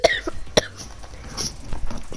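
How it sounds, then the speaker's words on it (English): A person coughs in sharp, close bursts, two strong hacks followed by smaller throat-clearing sounds, loud against a quiet room. "Why am I still coughing?"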